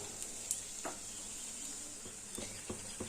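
Vegetable snacks fry in oil on a griddle over a low gas flame, giving a steady soft sizzle with a few faint clinks and scrapes as they are turned.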